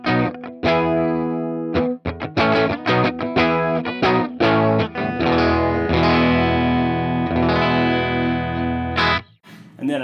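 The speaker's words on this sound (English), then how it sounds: "when the volume is higher than the drive on this amp, that's when there's a certain kind of overdrive that's kind of Voxy to my ear" Overdriven electric guitar played through a Purdy MP 18 tube amp on the bridge pickup, with volume set above drive for a Vox-like crunch; loud, sustained chords and riffs fill the stretch alone, ending in a brief pause.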